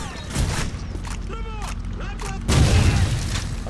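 A grenade explodes in Call of Duty 4: Modern Warfare, a loud broad boom near the end that rolls under game noise, with voices and radio chatter talking over the blast.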